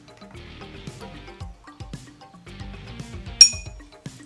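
Metal bar spoon stirring a smoky Old Fashioned in a glass, a run of light clinks and taps against the glass, then one sharp bright ring near the end, close and unaccompanied.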